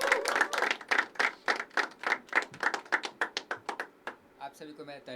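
A room of listeners at a poetry open mic at The Habitat claps for the next poet, the sharp claps fairly close, thinning into a few sparse ones before a voice begins at the end.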